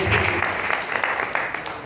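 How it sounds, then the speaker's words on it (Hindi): An audience at a Gita discourse claps briefly, a dense patter of many hands, moderately loud and fading toward the end. "बहुत बढ़िया, ताली बजा लीजिए जरा आपने।"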